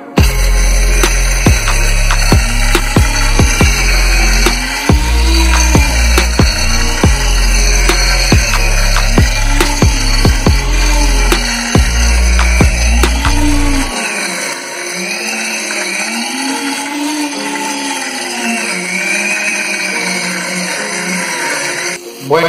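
Kitchen blender grinding almonds with flaxseed, a loud steady motor roar with chopping pulses for about fourteen seconds, then the grinding drops away leaving a lighter whirring hum.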